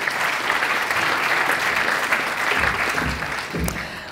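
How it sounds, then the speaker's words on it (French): Audience applause at an awards ceremony for the best organic products of 2019, a dense, steady wash of clapping from a full room that holds at the same loud level throughout. "On l'applaudit encore pour cette remise de prix"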